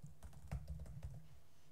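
Faint, quick clicks of a computer keyboard as Java test code is typed, a short burst of keystrokes over a low background hum with no talking.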